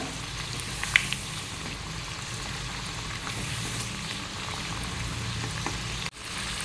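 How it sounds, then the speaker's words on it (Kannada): Jackfruit seed vada fry in oil over a medium flame, giving a steady, close sizzle and bubbling that holds an even level throughout, with a faint clink near the start and no talking. "ಮೀಡಿಯಮ್ ಉರಿಯಲ್ಲಿ ಇಟ್ಕೊಂಡು ಫ್ರೈ ಮಾಡಬೇಕು"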